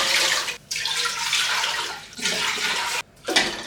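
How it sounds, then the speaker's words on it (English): Water is poured into a brewing pot on a stove, a close, rushing splash that stops and restarts in several bursts with short gaps between pours. "So I'll take my pot, place that on the stove, and essentially just start adding the water."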